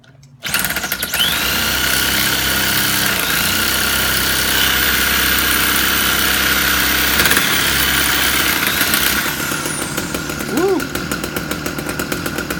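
A Homelite ST 275 string trimmer's small two-stroke engine starts and runs at a steady, buzzing idle close by for several seconds, with a faint whine near the end.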